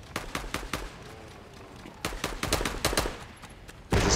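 A burst assault rifle fires in a Fortnite match, with sharp clustered gunshot bursts spaced irregularly across a few seconds, followed by a louder broadband burst at the end.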